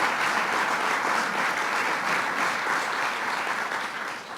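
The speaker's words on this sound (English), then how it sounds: "we all owe him a round of applause" Steady applause from an audience at a government bill signing, dense and continuous clapping filling the room for several seconds before tapering slightly at the end.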